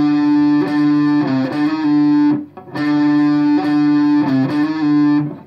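Distorted electric guitar playing a hammer-on and pull-off phrase, a sustained low note with quick fretted flourishes, played twice with a short gap between, loud and close with no talking.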